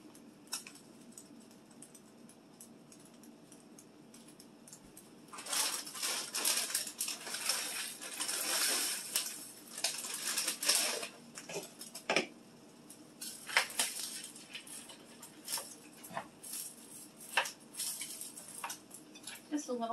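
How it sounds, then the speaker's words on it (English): Dry egg noodles are dropped a bit at a time into a crock pot, giving scattered crisp clatters and rustles against the pot over a quiet background. "get ready to put the noodles into the crock pot"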